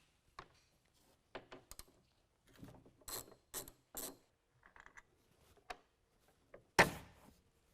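A ratchet with a 13 mm socket removes a truck bed handle on a 2019 GMC Sierra Crew Cab, giving quiet bursts of clicking in short, uneven runs with one louder clack near the end.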